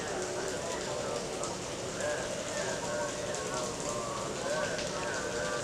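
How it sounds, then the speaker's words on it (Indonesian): Rain falls at night in Jambi province, a steady, even patter and hiss on surfaces with a faint voice underneath. "saat ini lagi hujan teman-teman, dan kalau malam tuh sepi banget"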